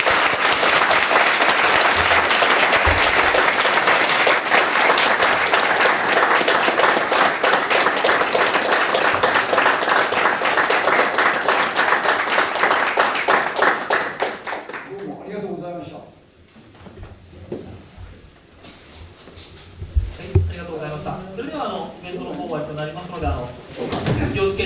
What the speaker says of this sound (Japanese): もう一回彼に盛大な拍手を送ります